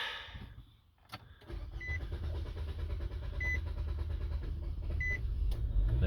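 A 2013-2019 Nissan Sentra with an EVAP leak fault cranks after a brief quiet gap, then settles into a steady, close engine idle rumble that continues to the end.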